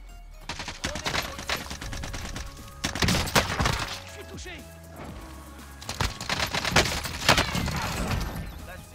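Rapid bursts of video game gunfire crackle in loud, dense volleys through most of the stretch, with shots overlapping and some brief lulls, while players talk over the action.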